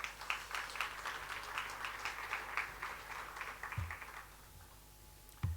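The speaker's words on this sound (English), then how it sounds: "Let's give him a round of applause, please." Audience applause at a live national budget dissection event, a crowd clapping steadily for several seconds before tapering off into a few scattered claps and quiet room noise.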